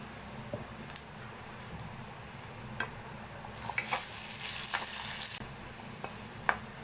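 Whole cumin and panch phoron sputter in hot oil, a constant sizzle broken by sharp pops and clinks of stirring, swelling louder for a couple of seconds midway.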